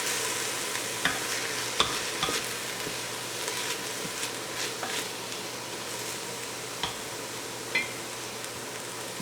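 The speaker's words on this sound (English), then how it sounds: "I add the garlic." Minced garlic sizzling with soft onions in a frying pan for an Italian meat sauce: a steady close hiss of frying with occasional stirring clicks and scrapes, no talk.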